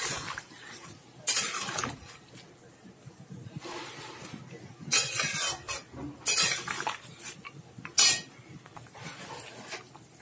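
Fried vegetables go into a cooking pan for Bengali shukto, giving several close scraping and clattering bursts of metal and utensils over a quiet background, spaced out irregularly.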